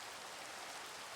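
Rain falls in Minecraft as a constant, even patter and hiss, faint and unbroken, with no other sounds over it.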